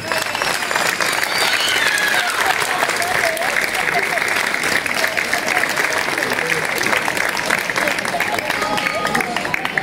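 An audience applauds a newly chosen princess and knight at a casting event, sustained even clapping filling the room with a light crowd murmur beneath it.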